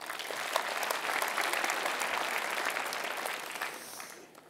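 Audience applause fills a hall at a mayor's New Year address in Voiron, a steady dense clatter of clapping hands that holds for several seconds before tapering off.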